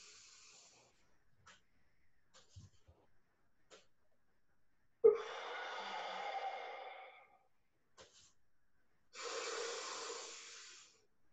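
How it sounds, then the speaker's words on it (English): Slow, controlled breathing exercise: after faint scattered sounds, a long steady exhale of about two seconds, a pause, then another long drawn breath, close to the mic and quiet. "I'm holding for five, I'm breathing out for five."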